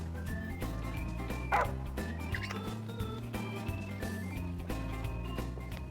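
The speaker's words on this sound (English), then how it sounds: "That dog can really track a scent." A dog barks in the video game Final Fantasy XV, with a few short yips over steady in-game music. The barks are moderately clear, with one sharper bark standing out partway through.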